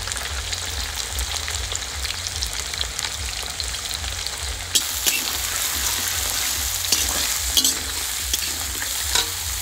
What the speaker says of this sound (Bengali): এখন আমি ফুলকপি দিয়ে দেব ক্যাপসিকাম দিয়ে দেব